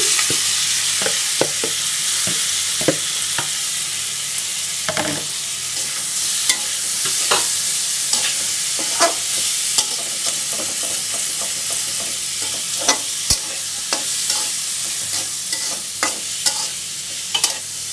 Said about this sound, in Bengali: আর এই তেলের ভিতরে আমি পেঁয়াজ মরিচগুলো দিয়ে দিচ্ছি।